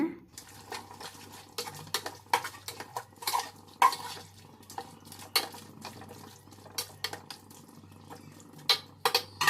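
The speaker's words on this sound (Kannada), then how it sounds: "ಒಂದು ಲೋಟ ಮೊಸರು ಹಾಕಿ ಚೆನ್ನಾಗಿ ಮಿಕ್ಸ್ ಮಾಡೋಣ" Yogurt being mixed into chicken for biryani in a pot, giving irregular clanks and scrapes of a spoon against metal, close and uneven, with soft wet squelching between strikes.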